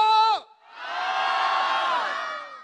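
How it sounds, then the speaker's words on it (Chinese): Outdoor concert crowd at a lotus festival in Jinhu, Huai'an, roaring and cheering in a loud sustained swell, with whoops and shouts, after a brief amplified voice at the start. "欢呼只有这么大声吗？"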